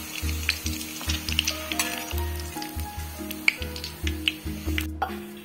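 Soya chunks for a chilli fry crackle and sizzle in hot oil, with sharp pops over a steady low hum and intermittent scraping clatter, close and fairly loud.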